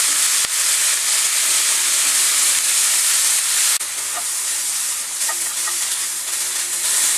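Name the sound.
stir-frying vegetables with soy sauce on high flame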